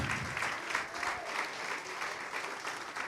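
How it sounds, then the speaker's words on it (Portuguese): Church congregation in Carapicuíba, Greater São Paulo, applauding in a sustained, dense wash of clapping, steady and fairly distant, with faint voices mixed in. "vamos aplaudir ao Senhor Jesus"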